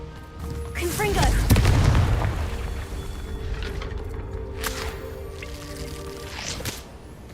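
A Confringo blasting spell explodes in Hogwarts Legacy, a deep boom swelling early and then trailing into a long rumbling tail with scattered crackles and game sounds.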